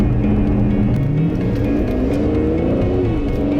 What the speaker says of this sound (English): Listen to that car take off